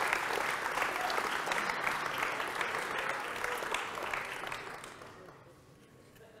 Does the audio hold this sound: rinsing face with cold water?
no